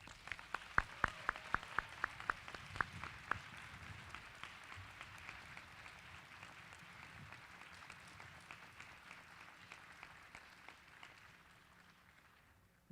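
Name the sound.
applause for award recipients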